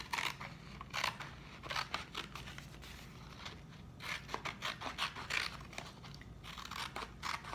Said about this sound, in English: So then you're going to cut the silver paper along those indentations